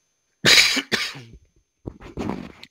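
A woman coughs sharply twice in quick succession, then gives a softer, rougher cough with a throat-clearing quality, close and alone in a quiet room.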